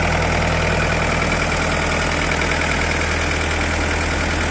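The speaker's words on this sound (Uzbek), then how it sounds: "Ekskavatorimiz motori sanab turibdi, mana bu holatda." An excavator's diesel engine idling, a loud, close, perfectly steady low rumble with an even mechanical drone and no change in pace.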